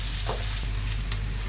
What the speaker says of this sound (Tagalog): Gigisa tayo ng bawang